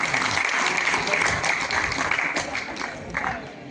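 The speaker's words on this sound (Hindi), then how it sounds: "इन सब को आप ताली बजाकर इनका स्वागत करेंगे" An audience at a government senior secondary school function in India claps loudly and continuously to welcome the principal and staff, the dense applause holding steady for a few seconds before easing slightly.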